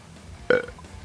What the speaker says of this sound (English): I got some weird mouth gas, burps, I guess you could say.